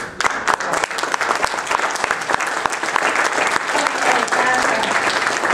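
A crowd claps steadily for several seconds, dense and fairly loud, with a few sharper individual claps standing out early on.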